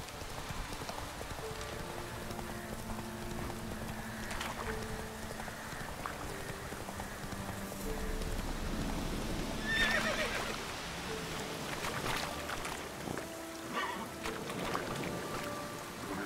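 In The Witcher 3, a horse gallops with rapid clip-clopping hooves and lets out a whinny, the game audio continuous and fairly close, with no voices.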